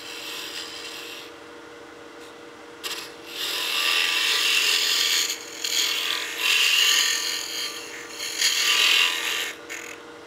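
Wood lathe hollowing a turned wooden baby rattle, a scraping, rasping cut that comes and goes in bursts of a second or two over a steady low motor hum, close and moderately loud.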